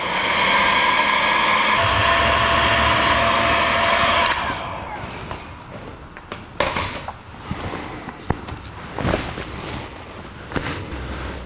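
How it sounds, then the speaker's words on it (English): A heat gun blows steadily at close range while red heat shrink tubing is shrunk onto a battery cable connector during car wiring on a 1949 Chevrolet gasser, then cuts off, leaving quieter handling clicks and knocks. "Now we'll put some heat shrink on the end, and we'll use red because this is positive, and shrink it down."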